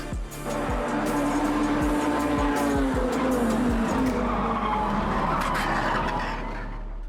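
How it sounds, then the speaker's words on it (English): NASCAR race car crash involving Darrell Waltrip's car on the backstretch: loud engine roar and prolonged tire skidding and squealing, with crowd-like noise beneath, fading slightly at the end. "Darrell Waltrip tumbling down the backstretch in what appears to be a very, very serious"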